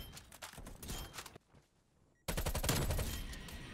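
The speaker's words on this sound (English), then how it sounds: "I'm getting shot at." Video game gunfire crackles in rapid automatic bursts, pauses into near silence for about a second, then bursts back louder and sustained.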